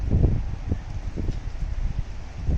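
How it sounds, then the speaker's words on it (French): Gusty wind at the Cherbourg seaside buffets the microphone in uneven low rumbling bursts, with a faint rustle in between and no talking. "Ouh, par contre, il y a du vent."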